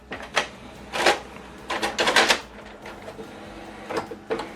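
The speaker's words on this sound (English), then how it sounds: "Ink holder just position itself." A Canon PIXMA MG2551S printer's ink holder shuttles into position, giving a run of close mechanical clicks, clacks and whirring bursts in an irregular rhythm, with no voices.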